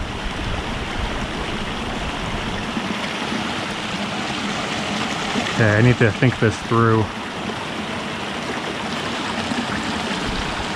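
A cold creek rushes steadily and loudly, close by, during trout fly fishing, and the noise of the water runs the whole time. Someone speaks briefly over the flow.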